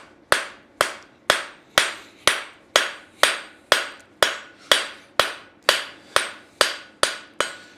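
A blacksmith's hammer strikes metal being forged, ringing out in about sixteen sharp, evenly spaced blows roughly every half second, loud and close, each with a short metallic decay, with no talking.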